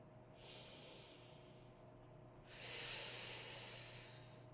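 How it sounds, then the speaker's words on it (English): Slow, deep breathing during a bodyweight yoga strength flow: a long airy inhale followed by a louder, fuller hissing exhale, close to the microphone in a quiet room. "And breathe. 4 deep breaths."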